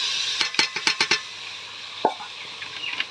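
Marinated loitta fish pieces go into a pan of fried potatoes: a quick run of close clinks and scrapes, then a thump, over a soft sizzle of hot oil with no talk.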